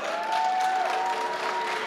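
A large audience applauds and cheers at the StarCraft II WCS Montreal 2017 quarterfinal esports event. There is dense, steady clapping and crowd roar with a faint tonal line running through it.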